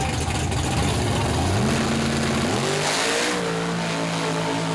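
A mud truck engine roars loudly and revs upward in pitch in stepped surges as it races down a pro-stock mud racing track, with a rough, heavy rumble throughout.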